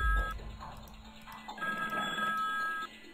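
A telephone rings in the Paris Hilton Halloween Fright Night horror video game, a steady electronic bell pattern heard twice in quick succession, close and clear over a low, eerie game backdrop.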